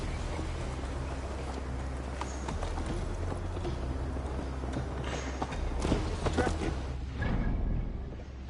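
Horse hooves clip-clop at a riding pace in Assassin's Creed Valhalla, a steady rhythmic trot over a constant low rumble of ambience, loud and close throughout with a slight swell near the end.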